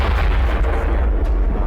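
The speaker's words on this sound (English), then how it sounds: "a rogue mortar strike" A mortar shell explodes in the Men of War: Assault Squad battle amid urban ruins, a loud, sustained low rumbling boom filling the short stretch with continuous roar.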